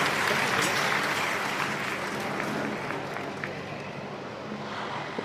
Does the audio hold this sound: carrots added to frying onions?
no